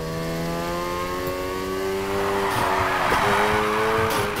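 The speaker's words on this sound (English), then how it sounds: "Now try and hold those drifts." Car drifting in the video game Need for Speed Heat, an engine revving steadily with harmonic drone, then tires squealing and scrubbing as the slide builds, loud and continuous.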